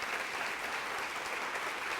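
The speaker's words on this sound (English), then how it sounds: "could we give them just a quick round of applause?" A quick round of audience applause for standing teachers, a dense, even patter of many hands clapping at moderate volume.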